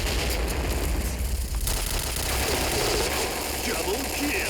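Rapid bursts of automatic gunfire in a video game crackle over a noisy, busy background, with a sharp impact midway and continuous clattering after.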